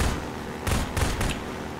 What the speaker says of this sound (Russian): Почему я слышу, как вы стреляете за стеной?